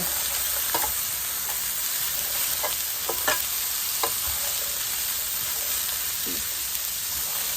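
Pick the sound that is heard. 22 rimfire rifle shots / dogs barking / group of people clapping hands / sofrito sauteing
sofrito sauteing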